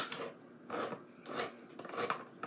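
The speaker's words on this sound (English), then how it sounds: "My good old trusty IKEA can opener." An IKEA can opener cranks around a can of cream style corn, giving close, rhythmic metallic grinding and rasping bursts that repeat in quick turns.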